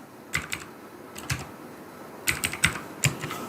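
Computer keyboard keys are tapped in short bursts of quick clicks, a few clusters separated by brief pauses, close and fairly quiet.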